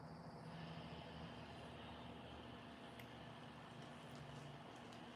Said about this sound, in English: It was a truck. It's okay.